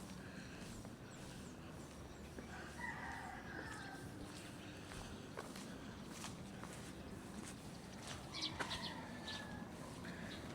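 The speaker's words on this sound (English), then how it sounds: "Here's some cockerels crowing in the background." Roosters crow faintly in the distance a couple of times over a quiet outdoor ambience in Angeles City, Philippines, with scattered light rustling.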